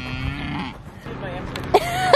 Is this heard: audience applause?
no